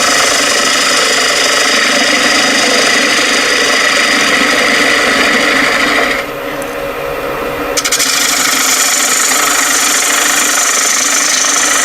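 A metal-cutting machine works through a part with shavings flying, giving a loud, steady grinding and rasping roar that briefly dips quieter for a moment before resuming at full strength.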